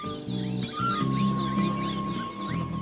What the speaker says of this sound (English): colorful birds feed on them, Cape weavers and white-fronted sunbirds